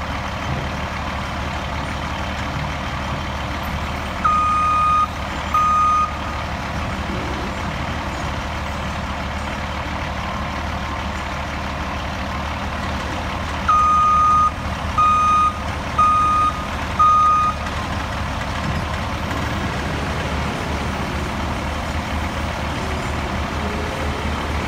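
A truck's reversing alarm beeps in short bursts while a truck unloads a delivery, with steady engine rumble and occasional air-brake hiss throughout; no one speaks.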